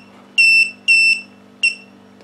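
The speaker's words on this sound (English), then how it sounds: "quad's beeping because something's wrong" Three electronic warning beeps from a quadcopter with a pre-arm fault, two long tones and a short one, sounding alone over a low steady hum.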